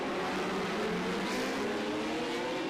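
Racing motorcycles at the 2023 Macau Motorcycle Grand Prix, led by Peter Hickman in second gear across a hilltop section, make a loud, dense, continuous engine roar that stays steady throughout.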